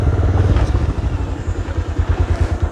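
A motorcycle on a road with a steady, loud pulsing engine throb and rhythmic low thumps, close and continuous throughout with no talk.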